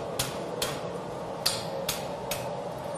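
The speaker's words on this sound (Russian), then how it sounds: "И теперь мы подгоняем молотком" A blacksmith taps hot metal with a hammer, fitting a bent bar into a pot hook for a cast-iron pot; five sharp, evenly spaced ringing strikes land about half a second apart over a steady background hiss.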